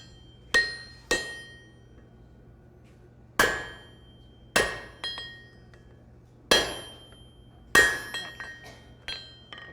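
Hammer blows ring out at a blacksmith's anvil while an edge is chamfered on hot metal, coming in sharp, clangy bursts, some single and some in quick pairs, with pauses between and no talk.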